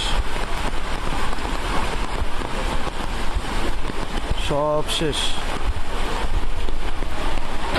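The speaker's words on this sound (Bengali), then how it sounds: "এত বেশি বৃষ্টি পড়তেছে" Heavy rain in the hill district during flooding: a dense, constant roar of rainfall and wind noise, with a brief voice speaking partway through.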